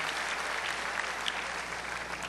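A church congregation claps steadily throughout, a dense even wash of many hands at moderate level with no clear pauses and no talking.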